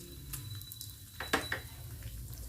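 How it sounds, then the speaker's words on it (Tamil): Fennel seeds, poppy seeds, black stone flower and cashews fry in hot oil for a Chettinad tomato kuzhambu, a soft close sizzle with a few scraping stirs of the pan. "இது எல்லாத்தையும் போட்டு கொஞ்ச நேரம் வதக்கலாம்."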